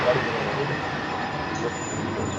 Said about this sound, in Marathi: प्रकारे ट्रेन स्टार्ट झाली आहे, तुम्ही बघू शकता.